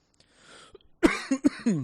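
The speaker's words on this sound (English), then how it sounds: "I've got a bit of a cough today" A few short, harsh coughs close to the mic in quick succession, after a breathy pause.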